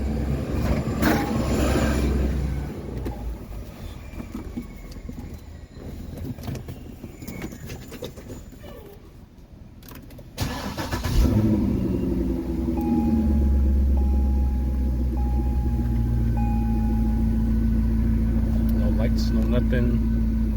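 A 2005 Corvette convertible engine cranks and fires at about 10 seconds, then settles into a loud, steady low idle rumble. Before the start there is quieter background noise with some talk.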